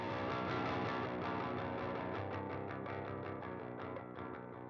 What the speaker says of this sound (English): listen to how the distortion characteristic changes from this lightly crunch sound to like overwhelming fuzzy like distortion